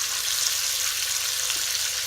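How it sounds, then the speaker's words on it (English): Short ribs sear in an Instant Pot, giving a steady, even hiss of sizzling fat that runs unbroken and close throughout. "I'm just flipping them around on their sides as well, so I can get a good sear all around."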